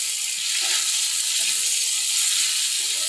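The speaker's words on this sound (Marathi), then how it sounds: "आता आपण त्यात एक मोठा टमॅटो घालून घेऊयात" Chopped tomato sizzles steadily with onion in a hot pan, a continuous close frying hiss with faint stirring, alone without talk.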